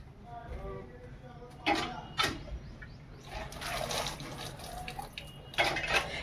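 Water gushes from a tube well hand pump as hands are washed after a trip to the market, coming in uneven splashy bursts, with someone talking briefly at the start.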